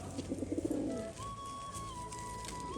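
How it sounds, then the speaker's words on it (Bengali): Pigeons coo in a soft rhythmic series of low pulses early on at a loft during a pigeon-flying tournament, over steady background noise and a faint sustained tone. "আর দেখুন এই পাশে কিন্তু পায়রাগুলো গিট খাচ্ছে"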